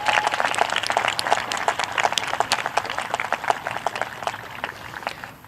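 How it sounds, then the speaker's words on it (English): Sustained crowd applause fills a school awards ceremony honoring merit winners, dense steady clapping from many hands that fades slightly toward the end. "Please give a round of applause to our merit winners."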